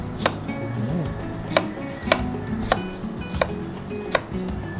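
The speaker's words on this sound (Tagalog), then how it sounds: "I'm going to cut our onions now." A knife chops onions on a cutting board in sharp, close, irregular knocks, about six strikes spread over a few seconds with a soft background hum.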